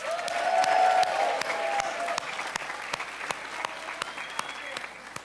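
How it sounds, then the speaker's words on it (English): Audience applause at a reception honoring first responders to Hurricane Maria, a crowd clapping loudly at first then thinning to scattered claps, with some voices mixed in. "let's give them a round of applause."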